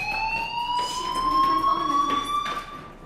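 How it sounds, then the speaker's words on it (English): Fire alarm in the game Life is Strange sounds a steady, shrill electronic tone that holds continuously, with faint background movement and ambience beneath it. "Hey, do you hear that fire alarm?"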